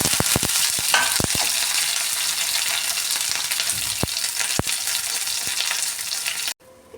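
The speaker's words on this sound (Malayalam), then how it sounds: "ഈ വറ്റൽമുളകും കറിവേപ്പിലയും കൂടി ഇട്ട് കൊടുക്കാം." Dried red chillies and curry leaves sizzle loudly in hot coconut oil for a Kerala-style pineapple pachadi, a steady dense crackle with sharp pops and spatters near the start, cutting off abruptly just before the end.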